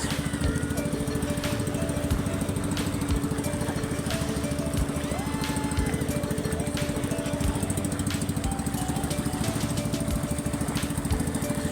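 A small boat engine towing a jet ski and banana boat drones steadily and loudly throughout, a constant buzzing putter with no break.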